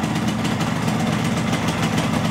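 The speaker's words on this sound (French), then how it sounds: "Je pense que vous avez déjà vu le moto tourner." A motorcycle engine idles steadily after ignition-timing adjustment, a close, loud, continuous rumble with a fast regular pulse and no talk.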